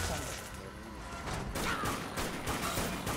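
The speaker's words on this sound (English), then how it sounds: "So now we can fire that single shot rifle pretty quick." A single-shot rifle fires in the top-down zombie shooter Dead Nation, sharp cracks repeating every half second or so over a dense, steady game soundscape of rumbling action.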